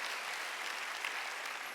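Church congregation at a worship service applauding, a steady, even wash of clapping that holds throughout without a break.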